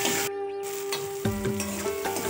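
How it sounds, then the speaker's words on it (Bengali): Spice paste fries in a pan for a fish curry, a close sizzling crackle with stirring scrapes and a steady tonal hum underneath, briefly cutting out before resuming. "মশলা কষানো হয়ে গেছে"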